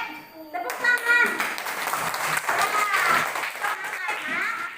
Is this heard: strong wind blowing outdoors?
no